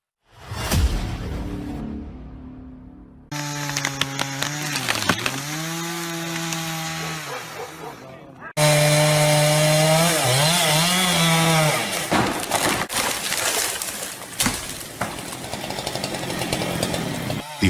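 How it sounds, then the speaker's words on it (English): A Husqvarna 395XP chainsaw with a 36-inch bar cuts into a large tree, its engine snarling loud and steady, pitch dipping as the chain bites, with abrupt changes in tone between cuts. "The Husqvarna 395XP chainsaw with a 36-inch blade is one of the most powerful and efficient tools for felling large trees"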